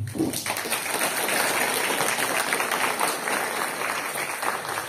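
An audience at a lecture on winemaking and cleaning gives sustained applause, a dense even wash of clapping that holds steady for about five seconds.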